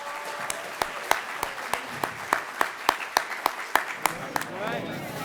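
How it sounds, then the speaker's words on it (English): An audience at a university business competition applauds the presenters, strong rhythmic clapping with sharp individual claps over a crowd, and a voice speaking over it toward the end. "How about another round of applause for all of them?"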